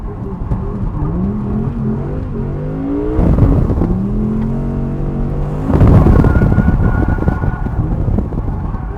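Audi R8 GT with a V10 engine driving and accelerating, a loud, close engine roar with rising revs, building twice through gear pulls and lifting in volume, with no talking.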